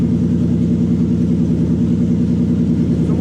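A Toyota 1UZ V8 engine, non-VVTi, idles steadily at 1200 RPM with a loud, even low rumble heard close up and alone, with no voices.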